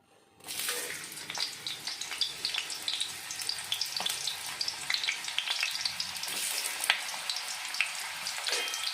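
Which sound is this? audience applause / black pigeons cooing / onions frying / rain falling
onions frying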